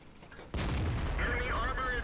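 Loud tank cannon shot in World of Tanks, medium tank gameplay, with a sharp blast about half a second in that rolls into a sustained rumble, with faint radio chatter-like tones riding over it.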